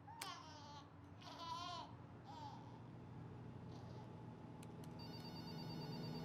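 A telephone rings in the video game That Dragon, Cancer, a faint electronic tone sounding in short bursts over a steady low hum and soft background murmur.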